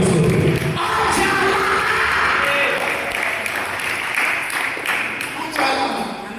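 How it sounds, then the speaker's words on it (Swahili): A church congregation claps together in a loud continuous burst with scattered shouts, fading a little then swelling again, while a voice carries on over it. "Chapia Bwana makofi mazuri"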